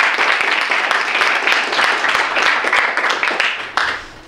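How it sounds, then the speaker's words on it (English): Crowd at an NAACP panel discussion event clapping for the host, a brief, lively round of applause from many hands that fades out after a few seconds. "And then our host, a round of applause."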